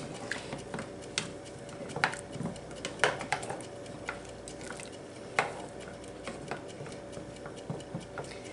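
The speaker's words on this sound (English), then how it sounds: "So I'm just going to stand here and I'm going to stir it until it starts to boil." A utensil stirs melted butter in a pot for glazed carrots, making quiet, irregular metallic clinks and scrapes against the pan over a faint background hum, with no voices.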